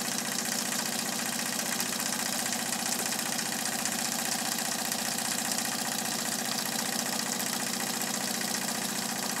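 A small Weeden model toy steam engine, fired by a flame-heated boiler, runs with a continuous, even mechanical whir and fast rhythmic chuffing, steady and close throughout.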